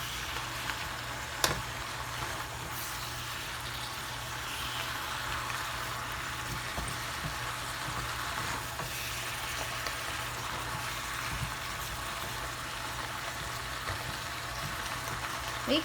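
Little cabbage stir-frying in a pan, sizzling steadily and softly for the whole stretch, with a faint low hum and a couple of light clicks from the pan.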